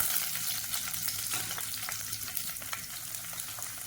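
Small shallots fry in a pan for a red rice and lentil dish, giving a soft, steady sizzle with light crackling and a few faint stirring scrapes.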